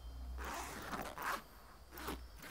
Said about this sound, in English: it's a zipper